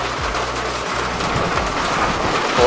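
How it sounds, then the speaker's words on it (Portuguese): Heavy rain falls steadily in a dense, continuous roar, with low rumbling underneath and no voices. "Tá chovendo pra caramba agora"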